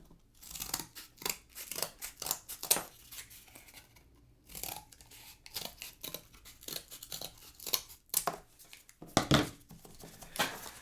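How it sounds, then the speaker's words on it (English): Scissors cut out a paper outline for a pipe cleaner surfer craft: repeated close, crisp snipping and slicing strokes in irregular bursts with short pauses, paper rustling between cuts, no talking. "Then you can just cut out your outline."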